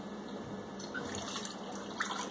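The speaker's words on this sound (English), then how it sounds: "I just have to add some water." Water trickles and splashes softly as it is poured from a tap into condensed soup in a kitchen, a steady, gentle liquid sound with a few light drips.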